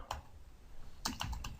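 Keys tapped on a computer keyboard while entering a user ID into an Excel VBA login form; a few sparse, crisp clicks close by, with a short burst of keystrokes near the end and no voices.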